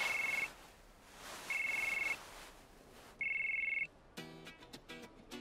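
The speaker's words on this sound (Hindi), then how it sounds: "किसका फोन है?" A phone ringtone trills in three evenly spaced bursts, followed by a brief melodic chime, fairly clear against a quiet room.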